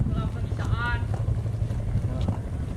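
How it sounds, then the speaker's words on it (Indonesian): A boat crosses a lake at the Jangari reservoir in Cianjur, making a steady low rumble while wind buffets the microphone. A voice speaks briefly over it. "Kita lagi naik perahu lagi ya."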